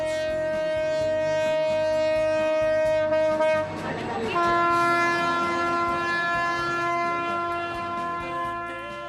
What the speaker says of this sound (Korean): 구름기차는 여기서 바로 멈추지 않고 200m를 조금 넘는 철교를 따라 전진했다가